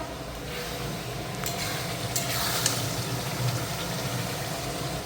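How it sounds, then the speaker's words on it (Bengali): Spice paste (masala) frying in a pan, a steady close sizzle with a few faint scraping stirs over continuous crackling. "এখন এই মশলাটা কষিয়ে নিই"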